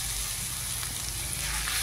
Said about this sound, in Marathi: तेल तापल्यावरती आपल्याला प्रथम आलं लसूणची पेस्ट टाकून घ्यायची आहे.